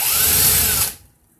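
A power drill whirs loudly in reverse while twisting 40-gauge Clapton vape coil wire, a steady high-pitched motor whine with a ratcheting edge that cuts off abruptly after about a second.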